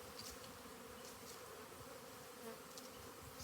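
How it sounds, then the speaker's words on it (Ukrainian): A steady, dense hum of many honeybees buzzing together at an apiary during a winter cleansing flight, continuous and even throughout with no voices. "На пасіці гудить все."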